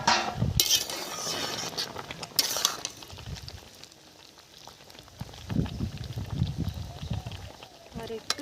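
Banana flower simmering in a pot, a soft bubbling boil with a few metallic clinks of utensils near the start, while a voice talks over it.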